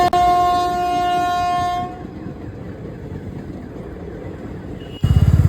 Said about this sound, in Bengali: আপ লাইনেও ট্রেন ছিল ডাউন লাইনেও ট্রেন ছিল